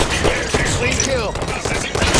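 Rapid weapon fire from a Promethean soldier in Halo 5 Guardians firefight, a dense crackling clatter of shots filling the short stretch, loud and close.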